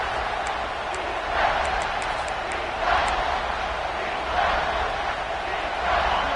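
Stadium crowd at a college football game roaring on third down, a broad sustained wall of cheering with surges, under a play-by-play commentator talking.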